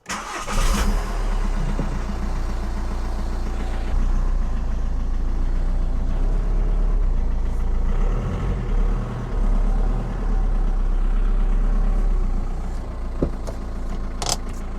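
A VW Golf GT TDI diesel engine starts up and then settles into a loud, steady idle with an even low rumble and a clattering throb, running alone close by.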